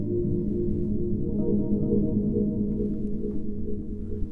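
A Yamaha Montage synthesizer playing a DX7-style patch with added LFO modulation and reverb, a sustained low, tonal pad that holds steady and gently wavers over about four seconds, with no talk.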